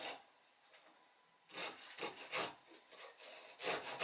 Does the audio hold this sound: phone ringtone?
no